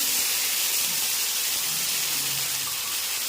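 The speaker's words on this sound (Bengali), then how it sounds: "গোটা জিরে ফোড়ন দিয়েছি" Whole cumin seeds sizzling in hot oil for a Bengali pointed gourd and prawn curry with coconut milk, a steady, bright hiss that stays loud and even throughout, close up.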